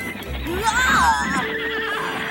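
A big white horse neighs loudly up close, a long wavering whinny with a rising and falling pitch that lasts most of the moment, over a low steady background rumble.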